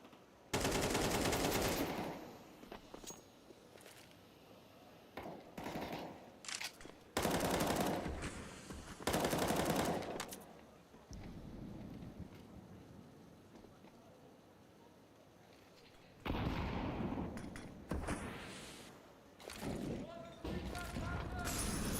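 AK rifle fire in a Counter-Strike 2 esports match, several loud sustained automatic bursts separated by pauses, with a commentator talking over the action.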